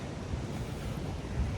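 Ocean waves breaking on a shore, a steady loud wash of surf with wind buffeting the microphone, continuous and close with no talk.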